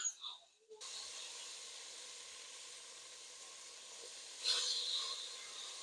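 Beef stew chunks browning in a pan give a quiet, steady sizzling hiss that swells briefly toward the end.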